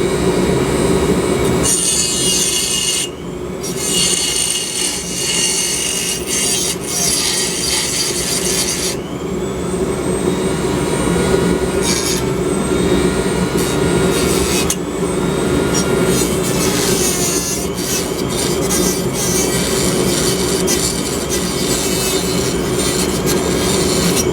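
A grinder roughs out a metal key in a workshop, a loud continuous harsh grinding with shifting pitch and brief dropouts as the tool lifts and bites again, running for the whole stretch with no talk.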